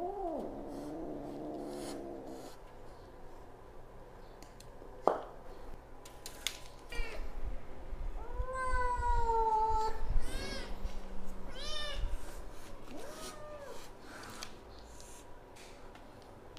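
Several newly acquired cats meow repeatedly, some calls drawn out and rising, others short, close by over a low background hum and scattered clatter.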